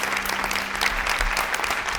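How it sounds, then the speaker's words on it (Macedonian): Studio audience at a family game show breaks into steady, dense applause that fills the whole couple of seconds without a break, with no talk over it. "Еден аплауз за следните играчи"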